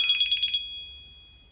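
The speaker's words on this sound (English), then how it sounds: "That was a phone call for not me." Phone ringing with an incoming call: a rapid bright electronic trill in about six quick pulses, loud and near, then a steady tone that fades out in a quiet room.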